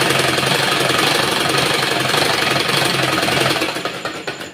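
A sewing machine stitches fabric for a shirt, running continuously with a fast, rapid mechanical rattle close by, then slowing into a few separate pulses at the end.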